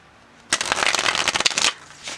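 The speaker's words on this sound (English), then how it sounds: "So it's very easy to shuffle, which I do appreciate." A Legacy of the Divine tarot deck is riffle-shuffled, giving one close, loud burst of rapid card flutter lasting about a second, then a brief soft shuffle.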